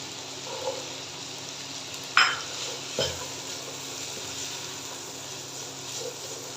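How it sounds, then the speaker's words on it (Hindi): Chicken and carrots cut in small cubes fry over high heat in a pan, a steady broadband sizzle with a few sharp spatula scrapes and clinks, close and fairly quiet, no voices. "चिकन को 1 मिनट फ्राई करने के बाद इसके अंदर गाजर ऐड कर देंगे"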